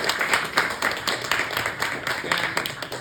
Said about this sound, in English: can people join me in giving a big round of applause for